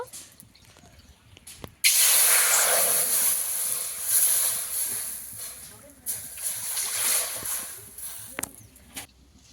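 Water from a measured bowl pours into a pan with a loud, steady hissing splash that starts abruptly and runs for several seconds, easing and surging unevenly before trailing off.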